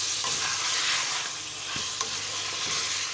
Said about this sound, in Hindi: आग मैंने तेज़ कर दी है और गोश्त को हल्का सा हम इसमें भून लेंगे